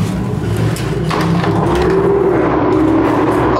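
Busy street traffic in central Minsk heard through an apartment window, a steady loud wash of passing cars with a rising engine drone partway through, continuous with no voices.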